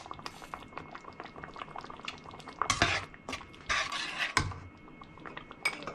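Sweet tomato chutney bubbles and simmers in a pan on low heat as a spoon stirs it, with wet sloshing and a few louder scraping bursts against the pan.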